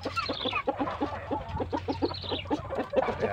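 A black Bangkok chicken clucking close by, a rapid steady series of short throaty clucks with a low hum underneath.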